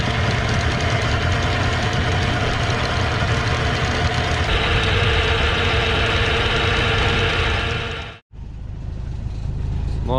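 A sailboat's inboard engine motors steadily out toward Dungeness Point off the south coast of England, a loud continuous droning chug with wind and water noise, briefly cutting out near the end.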